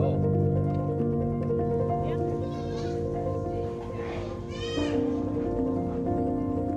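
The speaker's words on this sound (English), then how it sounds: "A lot of people come from far away to see the goats" Goats on a farm bleat in several wavering calls, loud and close, over a steady background of voices.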